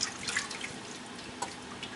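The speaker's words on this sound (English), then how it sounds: "Pouring in 2/3 cup of milk to get the nice creamy" Two-thirds of a cup of milk pouring into a creamy filling during home cooking, a brief soft run of liquid trickling and dripping, close and quiet, with no voices.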